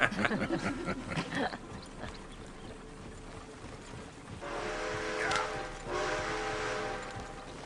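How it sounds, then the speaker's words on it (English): A train rolls past in the Red Dead Redemption 2 video game, a steady mechanical rumble swelling from the distance with a brief whistle-like tone near the end, following some early talk. "There's a train."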